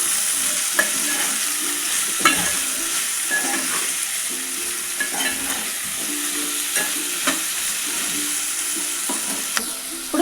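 Vegetables with salt are stirred in a hot pan for sambar. A steady, bright sizzle is broken by repeated rhythmic scrapes and clinks of a spoon against the pan.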